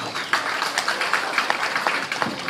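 A crowd at an inauguration ceremony in Tanah Papua claps steadily, a dense, even patter of many hands filling the hall for a few seconds, with no speech over it.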